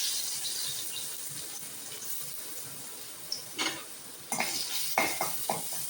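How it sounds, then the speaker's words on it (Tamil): Garlic frying in hot oil for a dried-fish thokku, giving a soft, steady sizzle with several sharper clinks and stirring scrapes near the end, close by, no talk. "இப்போ வெள்ளைப்பூடை போட்டுக்கலாம்."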